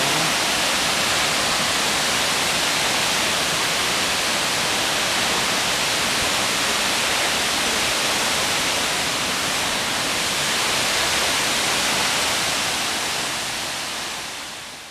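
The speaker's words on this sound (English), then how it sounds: "There's the waterfall." A waterfall roars in a broad, steady rush of falling water, loud and unbroken throughout, fading slightly at the very end.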